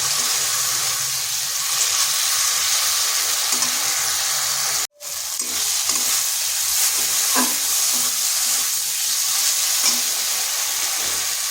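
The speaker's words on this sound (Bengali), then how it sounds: "এইভাবে মিডিয়াম টু স্লো আঁচে নিয়ে একটু সময় ধরে কষে নিচ্ছি" Potato and eggplant curry with chana dal sizzles steadily over medium-low heat, a close, even frying hiss broken by a brief silent cut, with occasional soft stirring scrapes and no talk.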